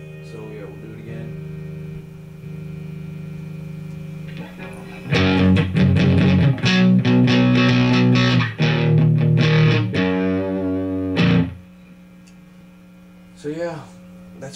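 A Line 6 Spider 3 75-watt combo amp on a crunch distortion setting: an electric guitar rings out in loud, crunchy strummed chords for several seconds over a steady amp hum, then falls back to quiet buzz.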